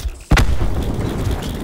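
A cluster grenade going off in Black Ops 4: after a quiet moment comes one sudden, loud, close blast, then a sustained rumbling tail of smaller bursts.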